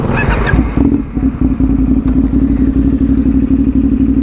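A CFMoto 450SR motorcycle engine idles close by with a steady, throbbing rumble after a brief louder rev at the start.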